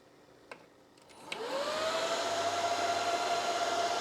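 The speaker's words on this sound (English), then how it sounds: "So here go the fans, and this is probably going to be very loud." Cooling fans in a 4U Supermicro CSE846 server chassis holding 16 drives spin up loudly after a couple of clicks, ramping into a steady high-pitched whoosh with a rising whine that settles into a constant roar.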